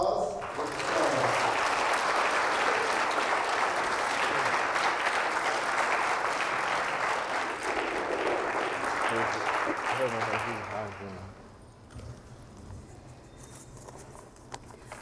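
Audience applause for Linda Meanus at an evening event, a sustained dense roar of clapping that fills about eleven seconds and then fades to a quieter room.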